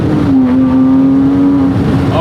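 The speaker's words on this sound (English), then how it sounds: "this flat six howl is so addicting" A Porsche 911 GT3 997.1 flat-six holds a loud, steady howling engine note from inside the cabin, a sustained droning tone that dips briefly near the end.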